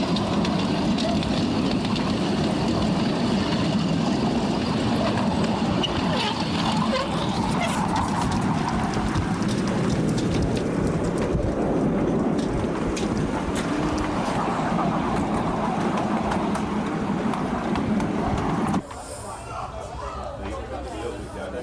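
A small train rumbles steadily past the Holly Tree pub in Forest Gate, a continuous close engine and wheel drone lasting most of the stretch, with pub chatter underneath, then dropping off abruptly near the end.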